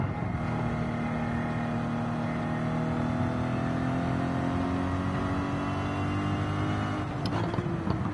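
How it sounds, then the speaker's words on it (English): A car engine in the Gran Turismo 7 racing game revs hard in a long, steady, loud drone that climbs in pitch, then stutters against the rev limiter near the end, with no one talking. "Probably rev pretty high. I don't think I've found the limiter yet."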